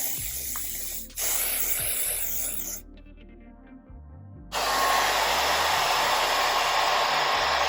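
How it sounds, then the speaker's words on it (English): Adhesive spray is applied while gluing down a curly bob wig, giving bursts of loud hiss that stop briefly and then resume in a longer, steady spray close to the microphone. "We're gonna begin adhering this on. So we're going to just spray."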